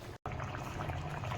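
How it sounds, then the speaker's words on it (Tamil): A pot of mutton drumstick kuzhambu bubbles at a steady boil, a close, continuous burble and hiss broken by one very short gap near the start. "பாருங்கள், எவ்வளோ அழகாக கொதிக்குது குழம்பு."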